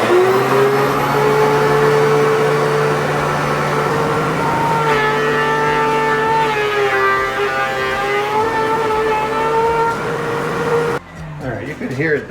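A wood planer works a walnut board with a loud, steady motor whine whose tone shifts as the cut goes on, then drops away abruptly near the end.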